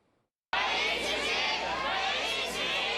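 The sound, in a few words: crowd of hundreds shouting in rage outside court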